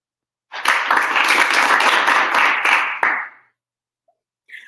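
Loud, dense applause from a studio crowd on a talk show segment, a close, steady roar of many hands that starts abruptly, holds for about two and a half seconds, then stops with a trailing tail.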